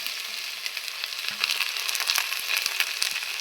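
Onions, ginger, garlic and green chilies fry in a pan for a soya chunk curry, a steady close crackling sizzle broken by a few sharp taps of a spoon.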